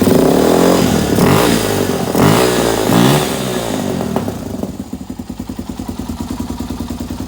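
A Yamaha TTR250 motorcycle engine running without the choke, first revving loudly and unevenly, then settling into a steady, rapid idle thump up close.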